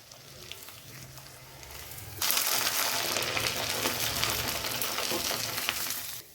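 Potato and sabudana papad drop into hot oil and set off a loud, dense frying sizzle that starts abruptly and holds steady to the end, after a quieter opening.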